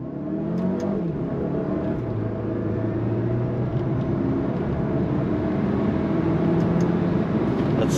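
A 2025 Alfa Romeo Tonale Tributo Italiano luxury sport SUV pulls away from a dead stop using paddle shifters, its engine note droning steadily and rising slightly as it accelerates, heard from inside the cabin with no talk.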